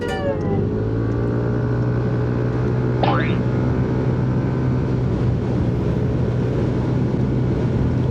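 A stock KYMCO RTS R 165 scooter ridden at full throttle to overtake gives a steady, close engine drone under heavy wind rush, with a brief rising whistle-like chirp partway through.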